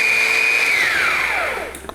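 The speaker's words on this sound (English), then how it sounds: "you're gonna put everything in a food processor or a blender, and then you're gonna just blend it until it's smooth" A kitchen blender purées sauce for fish tacos, its loud motor whining steadily and then falling in pitch as it winds down.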